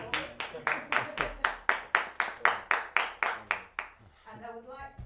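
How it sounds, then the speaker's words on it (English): Single person clapping steadily after a live-streamed folk band performance, about fourteen even, close claps in a slow rhythm that stop abruptly, leaving quiet room noise. "we can give you a big round of applause"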